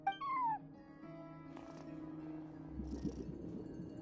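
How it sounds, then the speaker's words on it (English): Cat meowing at a hotel front desk in Genshin Impact, a single clear descending meow up close, followed by quiet game ambience and faint background tones. "No one except for a cat watching over the front desk. Excuse... meow?"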